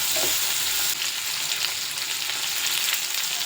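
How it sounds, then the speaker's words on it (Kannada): Green chillies and cashews frying in hot oil for a dhaba-style butter chicken gravy, giving a steady, close, dense sizzle with a few soft stirring scrapes and no talking. "3 ಹಸಿಮೆಣಸಿನ್ಕಾಯಿ, ಒಂದು 20 ಗೋಡಂಬಿ. ಇವೆಲ್ಲ ಸ್ವಲ್ಪ ಫ್ರೈ ಆಗುತ್ತೆ ಚೆನ್ನಾಗಿ."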